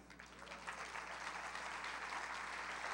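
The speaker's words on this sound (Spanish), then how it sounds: "Den un aplauso al Señor" A congregation at the Congreso Libertad 2016 church conference applauds the Lord, a dense, distant wash of many clapping hands that swells slightly and carries on evenly.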